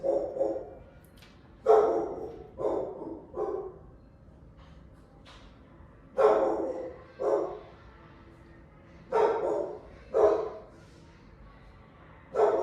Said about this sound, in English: It's my guard dog.